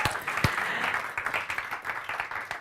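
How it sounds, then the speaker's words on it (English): Seminar audience applauding, a brief burst of dense clapping from a crowd that tapers off within a few seconds. "Give him a round of applause."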